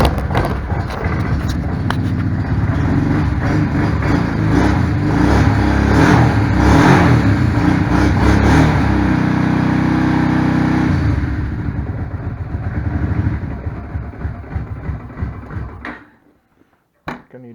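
A Kawasaki Prairie 700 ATV engine runs unevenly after its carburetor is refitted, loud and close, surging and revving erratically before settling and cutting out near the end, leaving brief clatter.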